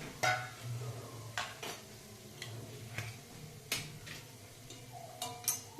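Whole spices, cumin, cinnamon, cloves and black pepper, dropped into a hot pan for a tuver totha recipe, giving light ticks and clicks over a soft sizzle, with a few scattered sharper taps.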